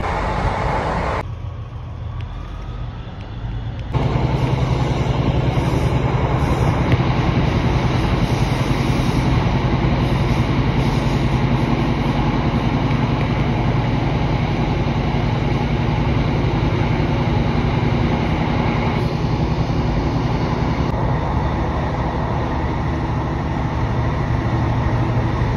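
Riding inside an empty train carriage through Wales, a constant loud rumble of wheels and hum of the carriage that jumps up after a few quieter seconds and then stays steady, with no voices.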